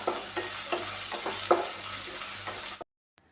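Ginger, garlic, curry leaves and chopped onion sizzle in hot oil, close and steady, with a few stirring scrapes before the sound cuts off abruptly into silence.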